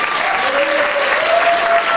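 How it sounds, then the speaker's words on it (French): Dense, loud applause from a pageant audience at a Miss Somme event fills the room steadily and evenly, with a faint murmur of voices in the crowd. "J'aimerais que vous l'applaudissiez bien fort."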